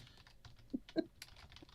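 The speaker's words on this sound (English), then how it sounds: "Just typing this in right now into our poll." A computer keyboard clatters with a short run of soft, uneven keystrokes close by, faint and sparse, with no one talking over them.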